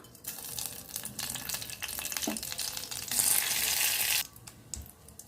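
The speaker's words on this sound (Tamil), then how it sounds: "தேவையான அளவு எண்ணெய் ஊற்றிக்கிடலாம் கடுகு கொஞ்சம் போட்டுக்கிடலாம் ரெண்டு மிளகா வத்தலை வந்து பிச்சுட்டு சேர்த்துக்கலாம்" Mustard seeds and dried red chillies frying in hot oil, crackling sizzle with stirring scrapes, rising into a louder hissing burst for about a second before settling.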